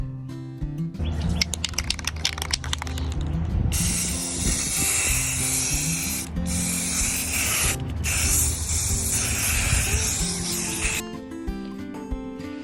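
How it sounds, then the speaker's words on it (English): Clay display shelf pieces get spray painted in long, loud hissing bursts from an aerosol can, with the can rattling and clicking between sprays. "once I get all the pieces sprayed"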